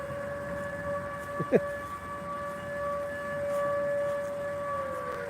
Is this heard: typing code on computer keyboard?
no